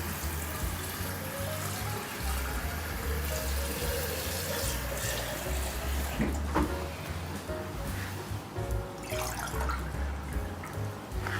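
Tap water runs steadily from a faucet in Iceland, a continuous close splashing stream filling a glass, with faint trickles and clinks on top and no talk.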